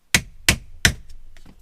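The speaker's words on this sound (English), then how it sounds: "take a plastic trim tool, place it under, and then beat it up with a hammer" Three sharp, evenly spaced hammer blows strike a plastic trim tool close up while removing a Jeep JL shifter part, followed by a few faint clicks.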